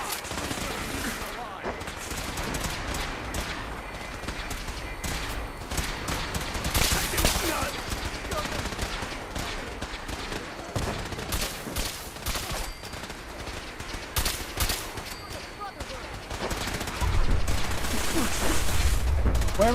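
Gunfire in the video game Fallout 4: dense, continuous bursts of shots and rattling weapon fire throughout, loud and busy, with a player talking over the combat.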